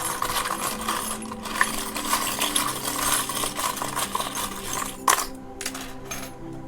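Small charms cast onto a surface for a spiritual reading give a close rustling shuffle, then a sharp little cluster of metallic clinks as they land.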